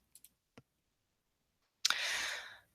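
A few sharp, quiet computer mouse clicks, two quick ones and then a single one, followed by a brief louder burst of noise, close and otherwise quiet.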